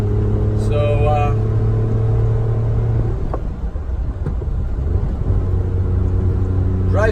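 A 1990 Mitsubishi MiniCab kei van with a 5-speed gives a steady engine hum and road rumble while cruising, and a person talks over the noise the whole time.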